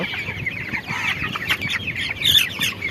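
Broiler chickens, about twenty-six days old and weighing roughly a kilogram each, cluck and squawk steadily in a dense, continuous flock chatter at close range with no voices over it.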